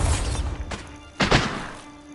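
Bombarda spell impact in the video game Hogwarts Legacy: a brief whoosh followed by a heavy, dull thudding blast with a short rumbling tail, close and fairly loud.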